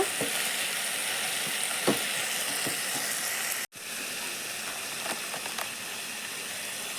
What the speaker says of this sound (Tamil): உப்பு சேர்த்துட்டு நல்லா கலந்து கொடுங்க